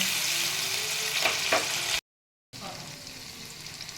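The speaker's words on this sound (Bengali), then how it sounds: "এবার একটু আমি রসুন আর আদা বাটা দিয়ে দিচ্ছি অল্প করে। এবার এটাকে আমি একটু কষিয়ে নেব।" Browned onions sizzle in hot oil as garlic and ginger paste goes in for sautéing while cooking yogurt chicken, a steady frying hiss with a few stirring scrapes, a brief dropout, then the sizzle resumes.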